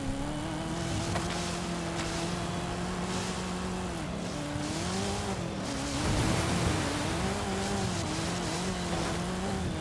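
Camaro racing in Forza Horizon 5, its engine droning steadily and loudly with rising and falling revs as it shifts, a continuous near roar with no talking.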